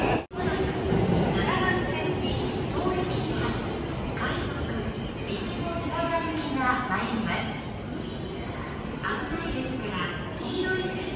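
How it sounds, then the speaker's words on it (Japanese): A 485 series train, the rapid Tanigawadake Mogura, rumbles and clatters as it rolls slowly alongside platform 7 at Omiya Station, with voices talking over the steady mechanical noise. "大宮駅の7番線に臨時快速列車谷川岳もぐら号越後湯沢駅が入線してきました"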